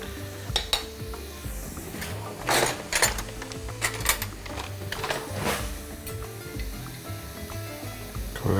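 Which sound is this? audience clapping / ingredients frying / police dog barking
ingredients frying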